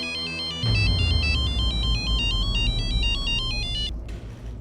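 A mobile phone ringtone plays loud and close, a repeating bright electronic melody pulsing steadily for several seconds over a low background hum before cutting off abruptly.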